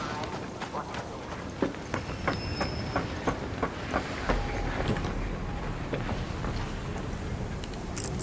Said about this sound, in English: Trains coming in below.